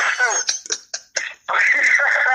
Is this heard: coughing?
yes